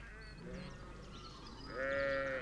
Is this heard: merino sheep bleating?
yes